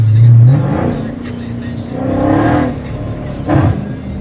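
A Dodge Challenger Scat Pack on a wet road revs and pulls hard with a loud, close engine roar that rises in several surges, with road and tire noise between bursts.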